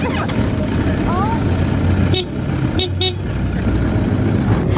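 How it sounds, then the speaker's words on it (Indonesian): A motorcycle horn is tested, giving a few short beeps over a steady engine and street rumble, with people talking nearby. "Boleh tes klakson?"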